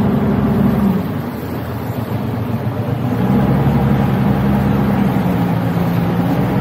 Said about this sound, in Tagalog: puro bangka dito sa Nabotas kasi puro pangkabuhayan, puro sa dagat